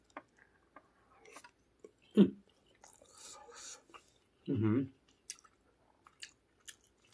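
Someone close by chews a bite of omelette made with pickled shellfish, giving a few soft, wet chewing bursts and small mouth clicks in a quiet room, with faint murmuring.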